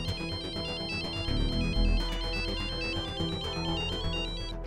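A mobile phone ringtone plays a bright, repeating electronic melody, loud and steady throughout with no talking over it.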